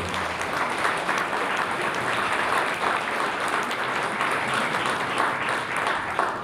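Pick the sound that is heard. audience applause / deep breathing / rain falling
audience applause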